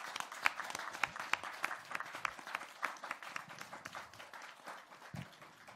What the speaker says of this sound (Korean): 우리 반갑게 박수 한번 쳐 드리겠습니다.